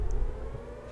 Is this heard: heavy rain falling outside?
no